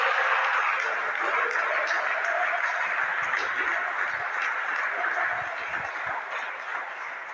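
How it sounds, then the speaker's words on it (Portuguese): A church congregation applauds during a sermon, a dense, steady wash of many hands clapping at once that fills the room and holds level before easing slightly toward the end. "levanta a mão aplaudindo e dando glória a ele"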